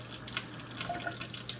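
Cold tap water runs and trickles into a container, a steady soft splashing wash lasting a moment with no voices.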